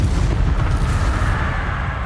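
A Confringo explosion spell goes off in Hogwarts Legacy, a dense booming blast with heavy low rumble that sustains through the whole two seconds, loud and close with no voices.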